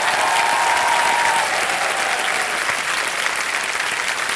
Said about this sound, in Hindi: तालियां बजती रहे देवी सर में